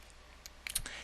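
A computer mouse is right-clicked during a Google Earth session, giving a few faint, brief clicks close together near the end of an otherwise quiet moment.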